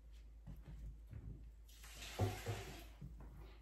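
Warm water poured onto a houseplant at home, a soft, steady splashing and trickling that swells midway through and then tapers off, close and fairly quiet.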